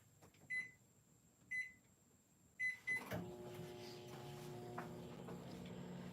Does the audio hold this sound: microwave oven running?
yes